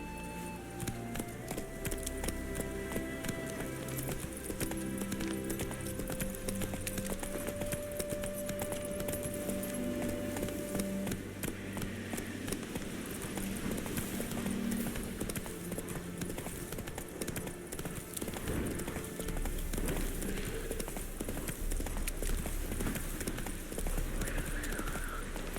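Roach the horse gallops in The Witcher 3, a fast, continuous rhythm of hoofbeats with jingling tack, mixed with game sounds and music.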